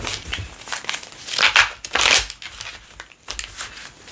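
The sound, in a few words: shuffling tarot cards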